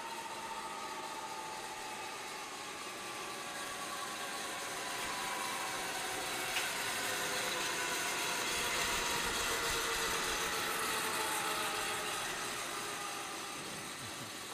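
A steady engine idles with a low, even hum and faint vibration, continuous and unchanging, no voices.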